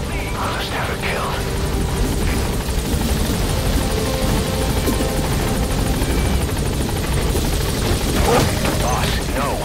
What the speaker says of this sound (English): I'll send the extraction chopper.